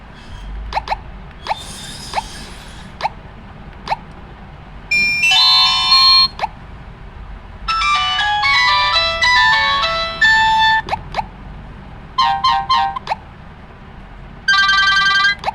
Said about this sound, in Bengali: নোকিয়ার যে মূল রিংটোন ওইটাই কিন্তু সাউন্ড একটু বেশি হয়